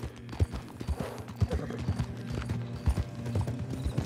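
Steady clip-clop of horse hooves trotting in the video game Red Dead Online, regular rhythmic thuds close by, with faint mechanical clicks and a brief whinny in the background.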